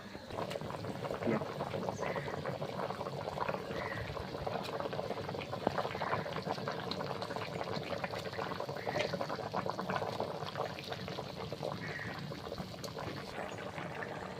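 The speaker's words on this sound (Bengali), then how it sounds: "তো তরকারিটা ফুটছে, আর বেশি ফোটাবো না কারণ ঝোলটা মুড়ে যাবে।" Fish curry with mustard paste bubbles in a pan, a steady dense boiling burble and gentle liquid churning that carries on evenly for the whole stretch, close and fairly quiet.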